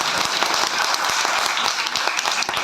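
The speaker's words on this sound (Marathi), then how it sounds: "सगळ्यांनी जोरात टाळ्या वाजवा" An audience at a Buddhist Ashwin Purnima and Dhammachakra Pravartan Day gathering applauds: a dense, continuous patter of many hands clapping at a fairly close, steady level throughout.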